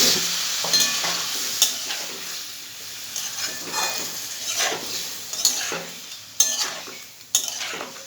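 Spice paste sizzles in a pan as water is added, with loud scraping stirs and spoon knocks against the metal over a steady close-up frying hiss.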